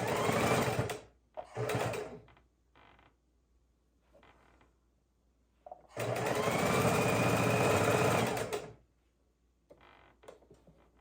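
A sewing machine lock stitches quilt block seams in short bursts, first a couple of quick runs, then a longer steady stretch, with quiet handling clicks and creaks in the pauses.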